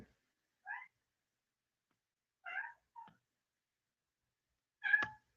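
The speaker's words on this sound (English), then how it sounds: "Here's the cat." A cat meows three or four times in a quiet room, each call short and separated by pauses of silence, with the last meow the loudest and closest.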